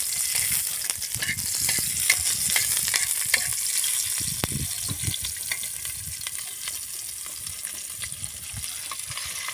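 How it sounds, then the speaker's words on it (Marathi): Onions frying in hot oil on a clay stove, a steady close sizzle and crackle with occasional stirring scrapes, continuous with no talk. "मसाला भाजासाठी तेल गरम झालं आहे आता त्यामध्ये कांदे टाकून द्यायचे"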